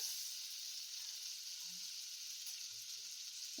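Chopped garlic fries in butter in a pan, giving a steady, soft, continuous hiss of sizzling with faint crackles throughout.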